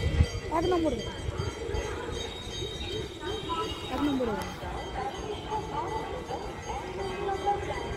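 A train pulling into a station platform on a line bound for Howrah, with rumbling wheel and carriage noise beneath people talking nearby.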